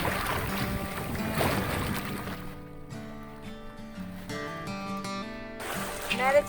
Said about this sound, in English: Meditative sailing.